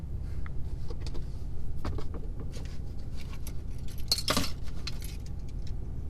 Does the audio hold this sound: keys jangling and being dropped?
yes